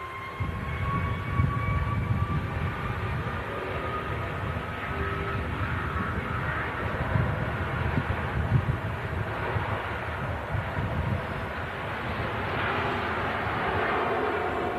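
A British Airways airliner touches down on the runway, a broad continuous engine and wind roar heard from a distance for about fifteen seconds, steady with slight swells and no talk.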